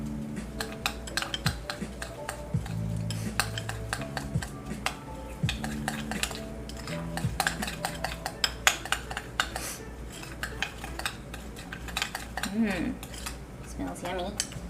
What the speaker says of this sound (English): And then I'm going to stir that up.